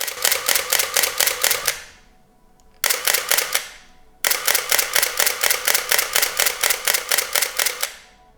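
Rapid bursts of crisp mechanical clicks, the shutter of a Canon T90 film camera firing repeatedly in quick even runs, with a short pause between sets, close and loud.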